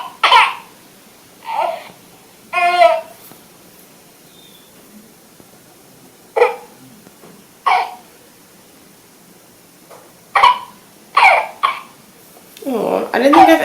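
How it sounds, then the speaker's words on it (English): A Realcare Reborn 2+ Hybrid baby simulator doll, held upside down, gives a run of short electronic coughs, splutters and distressed cries in separate bursts, growing into a longer fussing cry at the end. "So they will just cough and splutter and be really upset"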